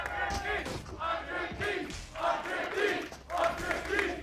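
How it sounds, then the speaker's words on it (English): Crowd noise in an esports arena during a Valorant match, surging cheers and chants that rise and fall in repeated waves, moderately loud and continuous. "You can hear the crowd trying to will the defensive side to a 5th"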